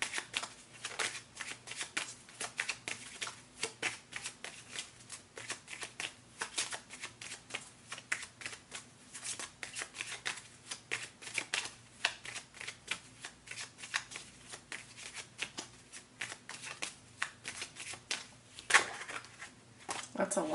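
Tarot cards riffle and shuffle in a rapid, continuous stream of crisp flutters and slaps, close and fairly quiet, with bursts of snapping card edges throughout.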